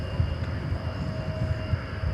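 An Airbus A321 going around at DFW airport, heard as a steady, distant jet engine drone with a faint whine over low rumble, without talk.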